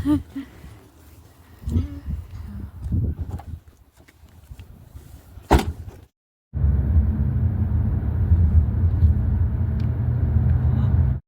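A car driving along a road: a steady engine and road rumble, loud and continuous for the last five seconds after a brief gap, with a busier stretch of mixed noise and bumps before it.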